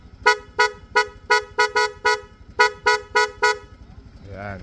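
Osram snail horn installed on a rewired Honda Click V2 scooter, sounded in about a dozen short, loud, close honks in an uneven rhythm, with a brief engine sound at the end.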